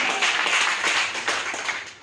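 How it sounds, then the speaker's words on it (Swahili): A church congregation claps together during a sermon, a dense, fairly loud patter of many hands lasting about two seconds with no talking over it. "Pigia Yesu makofi vizuri."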